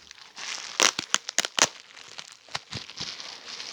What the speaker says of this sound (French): on va prendre le premier qu'on va déballer ensemble